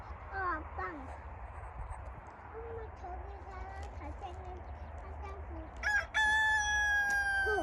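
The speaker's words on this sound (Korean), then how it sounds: "어, 어디 갔어? 닭한 마리 올라온 것 같은데?" A rooster crows on a countryside farm field, with drawn-out calls rising and falling at mid distance, then a louder, clearer crow near the end, over steady outdoor background noise.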